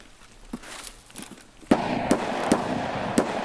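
Gunshots in the video game Escape from Tarkov: a few faint cracks early on, then four sharp, evenly spaced shots over a sustained backdrop of game noise.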